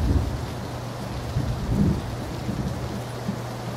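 Steady heavy rain with rolling low thunder in the battle royale video game PlayerUnknown's Battlegrounds, a constant wash of downpour lasting throughout with no voices.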